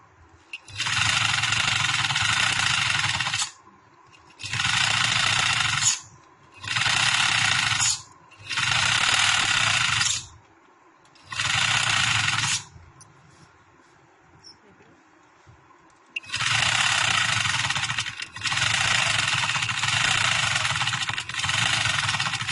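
A sewing machine stitches a girl's summer short frock in repeated bursts of steady mechanical whirring, each lasting a few seconds and separated by brief pauses, loud and close with no talk.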